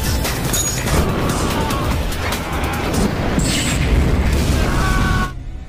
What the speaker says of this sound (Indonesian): Ledakan tersebut langsung mengakhiri nyawa sang monster.